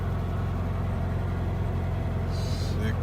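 A 1966 Volkswagen car engine idles smoothly with a faint, steady low rhythmic pulse and no voices.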